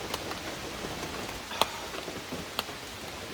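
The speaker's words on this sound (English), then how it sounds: "The pitter-patter on the roof of the rain." Faint, steady rain patters on a roof, a soft continuous hiss with occasional louder drops ticking through.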